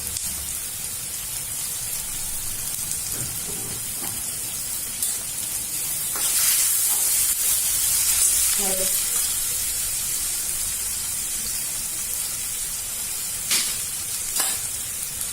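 Asafoetida sizzling in hot oil with tomatoes while cooking kande pohe: a steady, loud frying hiss throughout, with occasional stirring scrapes and someone talking over it.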